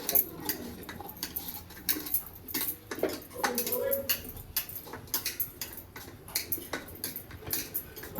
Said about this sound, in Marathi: ते आता आपण चाळणीनं गाळून घेणार आहे.